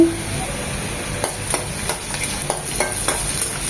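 Minced garlic and chopped onion fry in hot oil in a pan. A steady close sizzle runs throughout, broken by repeated scraping stirs in an uneven rhythm, and no one speaks.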